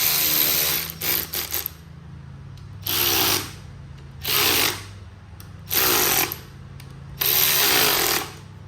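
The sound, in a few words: tightening bolts with an 8mm socket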